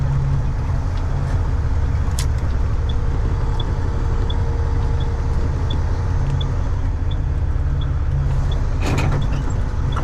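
A truck engine drones steadily and loudly from inside the cab while driving, with a faint high turbo whistle over the rumble and a few brief clicks and knocks.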